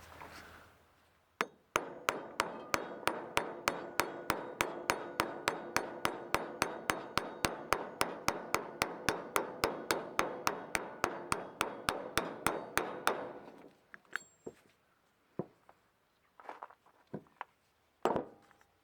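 Hammer driving a wheel bearing race into a Porsche 944 hub, dozens of sharp metallic strikes in a fast steady rhythm, then a pause and a few scattered lighter taps, close and alone.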